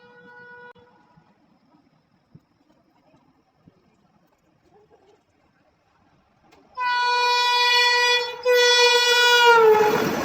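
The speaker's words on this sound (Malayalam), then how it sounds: "അങ്ങനെ വന്ദേ ഭാരതിനെ സ്പോട്ട് ചെയ്യാൻ പറ്റിയിട്ടുണ്ട്" A Vande Bharat Express passes through Phagwara Junction station. A few quiet seconds with faint distant sounds give way to a sudden, loud, sustained horn and a swelling close roar as the train rushes by.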